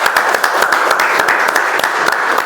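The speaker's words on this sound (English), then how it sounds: "Please give him a round of applause." Applause at a speaking club meeting after a member's first icebreaker speech, a loud, close burst of many hands clapping with a rapid, steady patter throughout.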